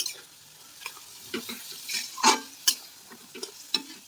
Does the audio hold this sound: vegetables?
yes